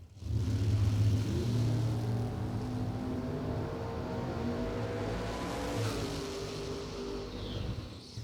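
Pair of drag racing motorcycles running down the racetrack, a steady mid-pitched engine drone holding for several seconds, heard from a distance at moderate level.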